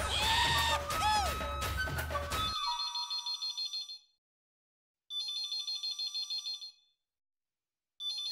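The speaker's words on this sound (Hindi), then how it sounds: "एक फोन बंद हुआ नहीं और दूसरा शुरू हो गया।" A telephone rings in a home in an Indian TV sitcom, with repeated electronic ring bursts separated by silent pauses, following a short stretch of busy background sound.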